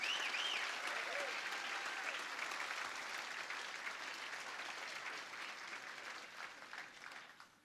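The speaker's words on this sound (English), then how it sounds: "let's give them a big round of applause" Audience applause fills a hall at an annual business hall of fame awards ceremony, steady dense clapping for several seconds that thins and fades at the end, with brief cheers early on.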